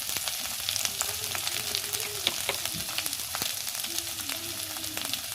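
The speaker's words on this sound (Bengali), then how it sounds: "ভালো করে আমি কষিয়ে নিব, মশলাটা ভালো করে কষিয়ে নিব।" Ground spices such as turmeric, cumin and coriander frying with broiler chicken pieces, a dense continuous sizzle with irregular sharp crackles and spoon scrapes in the pot, no talking.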